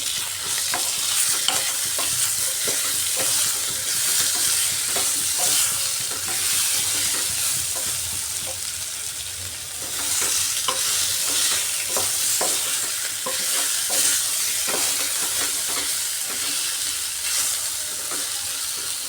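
Whole green chillies frying in hot oil in a pan for a spinach dish, a loud, continuous sizzle with occasional stirring scrapes, no voice over it.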